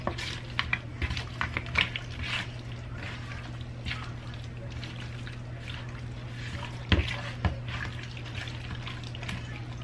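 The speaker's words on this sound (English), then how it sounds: "I'm also going to add some garlic powder to that. I'll go ahead and mix that up." A utensil stirs and scrapes through food seasoned with garlic powder in a kitchen pan, soft clinks and light wet sounds coming in scattered taps over a low steady background hum.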